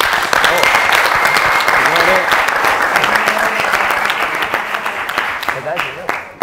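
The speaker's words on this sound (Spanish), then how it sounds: "pido un fuerte aplauso para Ongu" A studio audience at a basketball show breaks into loud, dense applause that holds steady for several seconds and thins slightly toward the end, with voices mixed in under the clapping.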